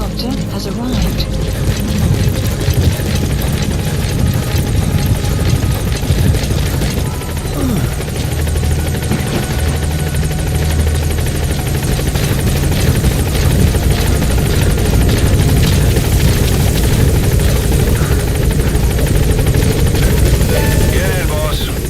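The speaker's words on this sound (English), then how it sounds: "Support helicopter has arrived." A support helicopter arriving in the video game Metal Gear Solid V: The Phantom Pain, its loud, steady rotor and engine roar filling the whole stretch, with voices over it.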